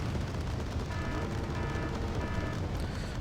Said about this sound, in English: So you can see here Martyr 2 shooting infantry and their rank being reduced rather quickly.